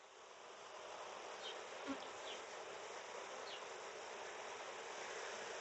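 Honey bees buzz around an opened hive during a beekeeping check of splits, making a dense, continuous drone that stays fairly quiet and steady, with a few individual bees passing close.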